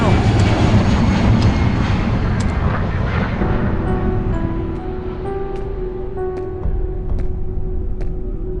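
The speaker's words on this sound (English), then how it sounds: "It's a goddamn airplane!" Airplane passing overhead in the Half-Life 2 mod Underhell, a loud broad engine roar that is strongest at the start and gradually fades into a lower hum, with a voice and other game sounds over it.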